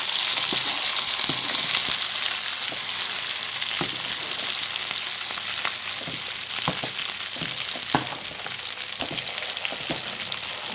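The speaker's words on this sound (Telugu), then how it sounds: "వంకాయలు ఫ్రై అయ్యేటప్పుడు కొంచెం కరివేపాకు కూడా యాడ్ చేసుకోవాలి" Brinjals fry in oil with curry leaves in a pan, making a dense continuous sizzle with scattered crackles and occasional stirring taps, close and steady throughout.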